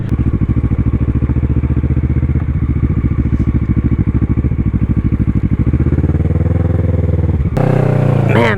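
A motorcycle on test tires thumps along in a loud, steady engine drone close to the rider, then shifts pitch near the end with a burst of wind and crunching as it rolls onto gravel.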